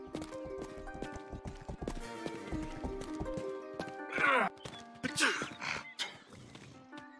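In the video game Rustler, hooves clip-clop in a steady gait, then a horse neighs loudly twice, the whinnies rising and falling against a quiet game backdrop.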